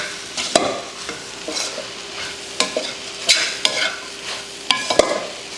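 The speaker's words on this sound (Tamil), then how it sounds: "சேர்த்துட்டு இப்போ நல்லா கிளறி விட்டுருவோம்." Chopped parotta and egg being stirred in a hot pan for muttai parotta, a close sizzle broken by repeated sharp scraping and clanking strokes of a spatula at an uneven rhythm, with no voices.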